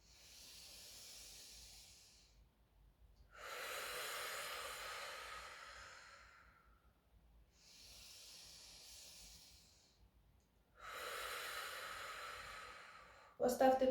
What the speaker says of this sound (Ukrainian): Вдих. Видих. І ще раз.